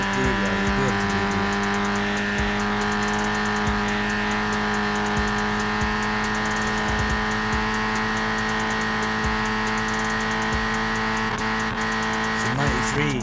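A 1983 MK1 Golf GTI with a naturally aspirated 1.8 engine in Forza Horizon 4 holds a steady, loud, droning engine tone through a bend, with short gear-change blips near the end and a voice talking over it.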